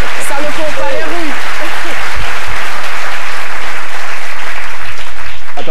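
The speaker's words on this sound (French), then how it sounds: "Je pensais que le public allait applaudir sur ce coup." A studio audience on a live television talk show breaks into very loud, dense applause that fills the whole stretch, with a voice and some sharp sounds briefly on top at the start.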